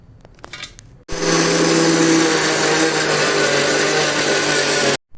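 A brief quiet clatter, then a mixer grinder roars on loudly, grinding spices including nutmeg, and whirs steadily for about four seconds before cutting off.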